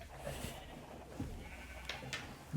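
Sheep bleating on a Minecraft farm, a few short bleats over a steady low hum, moderately faint and with no talking.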